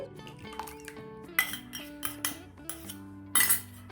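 A metal whisk mixes curd into tutti frutti cake batter in a bowl, making irregular close clinks and taps against the bowl with a few sharper knocks. No one talks.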